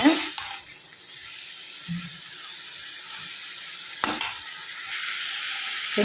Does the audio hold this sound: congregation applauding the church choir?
no